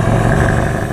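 A 1984 Ford LTD Crown Victoria engine runs steadily at a low, even idle, loud and close, with a constant rumbling hum.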